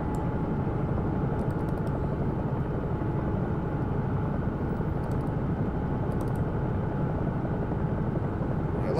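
A Bell 222 helicopter flies an air ambulance mission in X-Plane 11, its rotor and turbine making a steady, even drone throughout, with faint keyboard clicks now and then.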